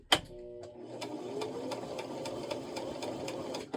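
A sewing machine stitches back and forth, opening with a sharp clunk and then running in a steady, close, rhythmic mechanical whir.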